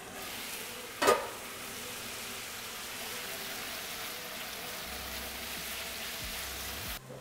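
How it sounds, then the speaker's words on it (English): Steady sizzling of chicken frying in a pan with very little oil, close and moderate, with one sharp clatter near the start. "So if you want to cook in a frying pan like this with very little oil"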